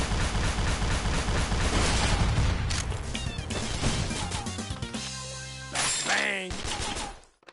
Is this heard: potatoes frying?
no